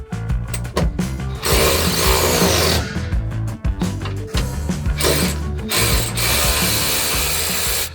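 Ratchet clicking loudly and rapidly as bolts come off the canopy brackets of a Jeep Gladiator truck bed, bursts of busy ratcheting with short pauses between, close up with no talking.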